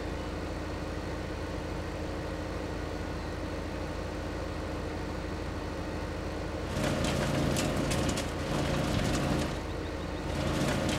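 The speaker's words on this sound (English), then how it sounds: "I forgot I had turned on the implement, or it was keyed up on the stump grinder" A stump grinder implement runs in Farm Simulator on Xbox One. A steady mechanical drone holds for several seconds, then grows louder and rougher, with gritty grinding bursts that pause briefly and return.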